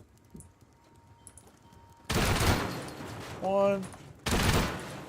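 Rapid bursts of gunfire from shooting turrets in the survival game Rust, two loud sustained volleys separated by a short pause, with a brief electronic tone between them and a voice counting.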